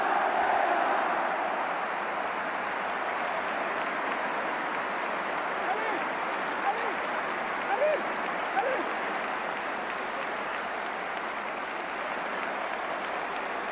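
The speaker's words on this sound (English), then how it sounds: "This could be the cheer of the night right here." A Serie A stadium crowd at Napoli versus Juventus roars in a long sustained cheer for a substitution, a broad wash of distant voices and applause continuing under a commentator's talk.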